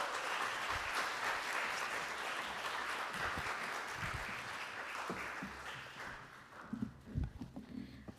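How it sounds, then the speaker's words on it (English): Book-release audience applauds panelists walking up, a sustained wash of clapping that thins toward the end, where louder footsteps and knocks come through. "Can you give a round of applause for our panelists as they come up?"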